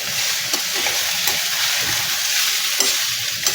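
Cucumber poha with sugar and salt being stirred in a pan, a steady close hiss of frying with repeated scraping strokes of a spoon against the pan, no voices.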